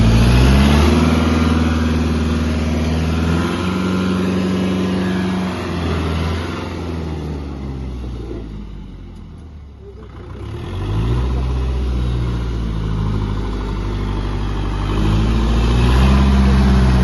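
A Kubota tractor engine runs in first gear with a loud, close, steady low diesel drone, briefly easing and dipping in the middle before returning to full strength, with no talking.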